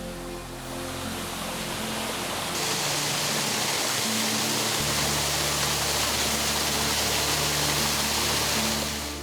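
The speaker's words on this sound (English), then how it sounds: "yet another spectacular Ozark waterfall" A loud, constant roar of an Ozark waterfall in Arkansas fills everything, a dense unbroken rush with deep low rumble and no other sounds standing out.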